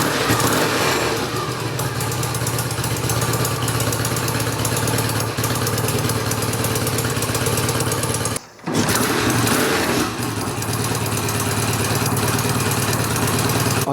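An engine idles steadily and smoothly up close, a loud even chugging that drops out for a moment before resuming.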